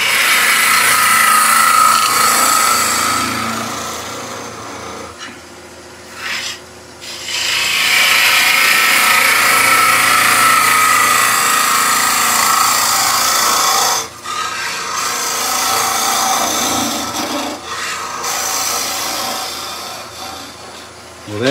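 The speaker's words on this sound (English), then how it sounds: "so we'll stop the lathe, have a look" Wood lathe turning a German smoker, a loud continuous rasping, scraping cut of a tool on spinning wood, broken by a few brief pauses where the cutting lifts off before resuming.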